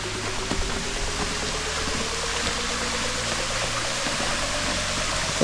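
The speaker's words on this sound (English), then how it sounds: "So we're at the first waterfall." At the first waterfall in Hanging Rock State Park, falling water makes a steady, dense rushing roar that stays even and continuous from start to finish.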